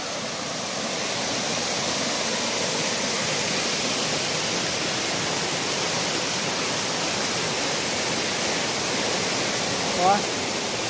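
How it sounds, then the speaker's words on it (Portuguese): Steady broadband roar of the Goiabal waterfall in Bom Jardim, heard from above, continuous and full for the whole stretch, with a brief faint chirp near the end. "olha a cachoeira daqui de cima"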